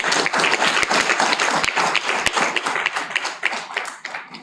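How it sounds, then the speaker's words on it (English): Applause at a semi-final of a corporate HR debate event, a dense, steady roar of clapping from an audience, close and loud throughout with a few sharper individual claps standing out. "can we have a big round of applause for EdgeConnect International?"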